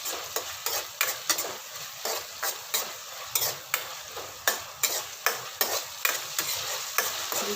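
Tomato softening in a hot pan as it fries, with a spoon stirring it in steady, repeated scrapes over a continuous sizzle, close and moderately loud, no voices.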